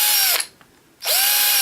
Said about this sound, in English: I'm going to clear all the holes with a 16th inch drill.